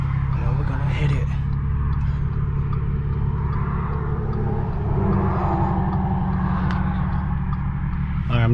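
Close, loud exhaust rumble from an Audi S4 B8.5 fitted with an ECS Tuning valved exhaust running with its valves closed, a continuous deep drone with slight rises in pitch.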